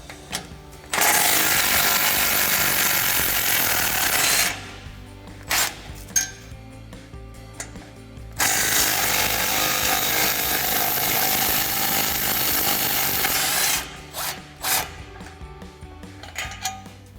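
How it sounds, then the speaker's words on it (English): A 14 mm socket driving exhaust bolts on a 2009–2021 Toyota Tundra, heard as two long, loud whirring bursts of several seconds each, with short metallic clinks between them. "same 14 millimeter socket for these 2 bolts as well"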